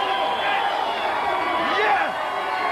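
A wrestling arena crowd roars steadily at a TNA pay-per-view event, a dense, loud wall of cheering that holds throughout with a slight swell near the end.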